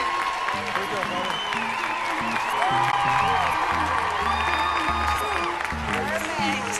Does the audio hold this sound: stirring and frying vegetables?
no